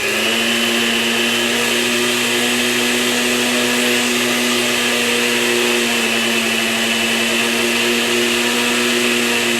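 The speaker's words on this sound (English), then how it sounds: "Y'all see this blender does not like me." A blender runs steadily on raw vegan bolognese ingredients including peppers, a loud continuous motor whir with a high churning edge, unbroken for the whole stretch and free of talk.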